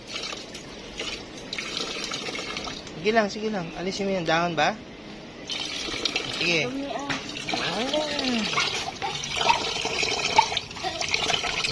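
Water runs and splashes steadily into a pot at a campsite while people talk over it, the flow growing louder partway through.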